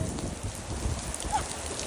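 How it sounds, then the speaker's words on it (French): Steady rain pattering close by with a rough, blustery rush of wind underneath, continuous and fairly loud; strong wind with rain, outdoors in Ypres. "il y a un vent de fou, il pleut"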